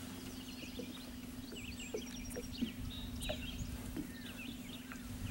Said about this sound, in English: you can really hear all the birds singing too